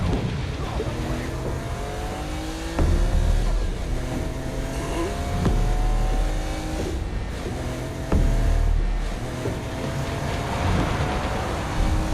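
Car engine droning steadily in Saints Row: Gat Out of Hell, with rising and falling revs and a few sharp knocks or impacts, loud and continuous with game sounds layered over it.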